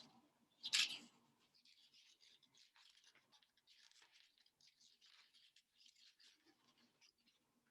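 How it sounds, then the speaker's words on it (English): Scissors cutting out a paper trilobite, heard as a brief, sharp crisp snip near the start, followed by soft, faint paper rustling and small handling sounds close by. "Cut that out and glue it on."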